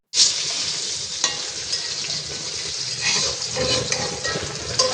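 Brinjal (eggplant) slices frying in a hot pan give a loud, steady sizzle that runs the whole time, with bursts of spitting oil and a few scraping stirs near the end.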